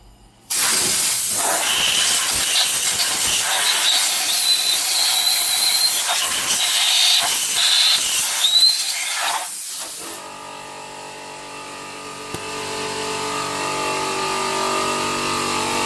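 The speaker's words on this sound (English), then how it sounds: "I'll turn the air compressor off because that shit was annoying" Hissing compressed air from an air compressor in a workshop during an RX8 13B Renesis engine build, a loud broadband rush for about ten seconds before cutting off, leaving a quieter hum.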